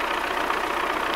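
An MTZ tractor diesel engine idles in winter after a hard start, a steady low rumble with a fast even chugging pulse, close and continuous with no talk.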